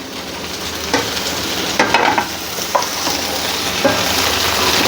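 Tomatoes sautéing in a pan for paneer masala give a steady, fairly loud sizzle, with a few spoon scrapes and stirring knocks spaced through it.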